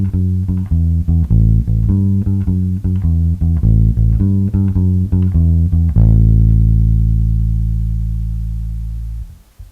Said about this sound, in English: Next we're going to do the line in swing eighths